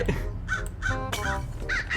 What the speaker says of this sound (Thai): โอ้ยลำคาญอีกานี่วะ ลำคาญด้วย